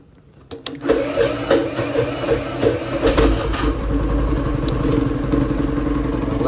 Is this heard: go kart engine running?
yes